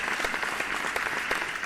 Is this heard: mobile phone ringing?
no